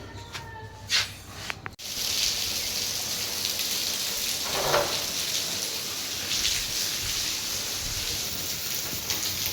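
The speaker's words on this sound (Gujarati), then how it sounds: "આજે ઓચિતાનો વરસાદ આવી ગયો છે" A sudden rain shower starts after a brief quiet moment, then holds as a dense, steady patter and hiss of drops falling on surfaces nearby.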